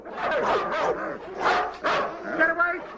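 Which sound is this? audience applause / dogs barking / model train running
dogs barking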